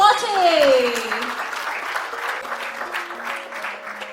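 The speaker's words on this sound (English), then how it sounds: "Let's have a huge round of applause for the 40 under" An audience at the 40 under 40 achievers awards ceremony breaks into sustained applause, loud and dense at first and then settling, as a rising musical flourish plays along and tapers off.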